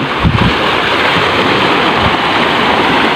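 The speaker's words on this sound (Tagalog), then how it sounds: "Ayan, may mga alon siya." Sea waves on a shoreline as the tide rises toward high water, a steady broadband wash of surf with a couple of heavier surges near the start, loud and continuous with wind noise and no talking.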